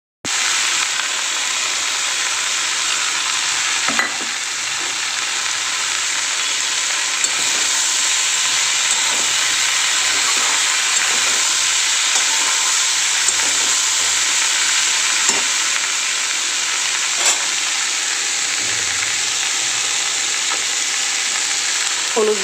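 Spices and vegetables frying in a pan on a Bengali home stove give a loud, steady sizzle close by, with occasional stirring clicks and scrapes breaking through the continuous crackle.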